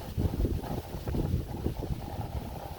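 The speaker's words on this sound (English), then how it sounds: "Whoa, and it's windy too, as well." Cold wind blowing outdoors, a continuous low rumbling buffet against the microphone that gusts unevenly throughout, close and fairly loud.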